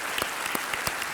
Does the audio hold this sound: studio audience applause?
yes